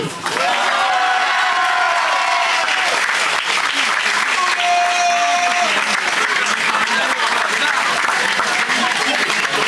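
An audience at an awards announcement applauds the second-place team, Bergerac 2, with loud sustained clapping and scattered cheers. A voice speaks over the noise partway through, and a whistle-like tone sounds briefly near the start and again mid-clip.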